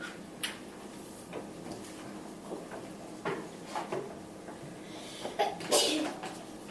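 Several short bursts in a quiet classroom, one sharp sneeze among faint ticks, knocks and small movements, with soft voices at a distance.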